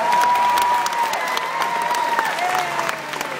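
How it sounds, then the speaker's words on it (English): Steady applause from a crowd at an aquarium dolphin show in Baltimore, continuous clapping throughout with a faint whistle-like tone running underneath. "how about a round of applause for our girls?"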